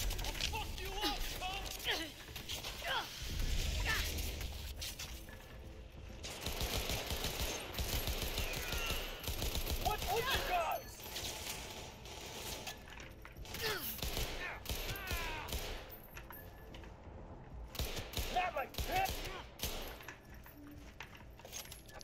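Rapid automatic gunfire from a video game rattles on almost without pause under clattering metallic mechanism noises, loud and busy, while someone talks over the shooting.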